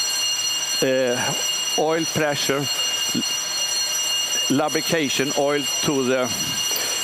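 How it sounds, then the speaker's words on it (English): Alarm bell on the control panel at SAQ Grimeton radio station, a continuous ringing tone sounding throughout while someone talks over it. "And now we have a persistent alarm"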